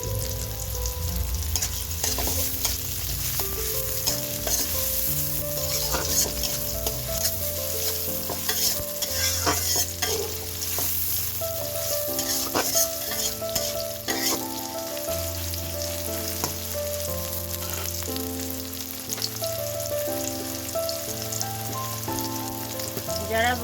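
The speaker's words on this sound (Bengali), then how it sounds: "পোলাওর জন্য আলাদা আমরা পেঁয়াজটা ভেজে রাখবো" Onions fry in white soybean oil for pulao, producing a loud, continuous sizzle with constant stirring, repeated scrapes and clinks of a spoon against the pan, and a low background hum.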